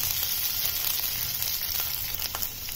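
Grated ginger and garlic fry in hot oil for methi dal, giving a soft, steady sizzle with occasional faint stirring scrapes.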